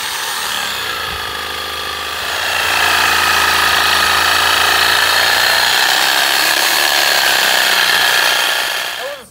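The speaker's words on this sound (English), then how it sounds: "Without the sawzall, I think we would have been dead." A reciprocating saw cuts through the thick trunk of a wild dwarf jade shrub, a loud, steady buzzing rasp that swells after the first couple of seconds and holds close and continuous until it cuts off at the end.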